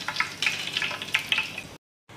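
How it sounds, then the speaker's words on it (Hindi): Fennel seeds and cardamom sizzle and crackle in hot ghee, a close, continuous frying hiss with sharper pops, cutting off abruptly into silence near the end. "इसको तकरीबन 20 सेकंड के लिए इसको तड़काएंगे।"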